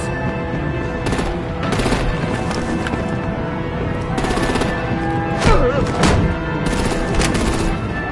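Rapid gunfire and bursts of shooting from a battle in Batman: The Telltale Series, loud and sustained over several seconds with sharper crackling volleys.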